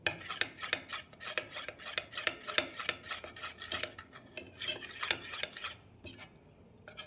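Patishapta batter mixed in a bowl, a spoon or whisk scraping and clinking rhythmically against the sides in steady, close strokes with no talking.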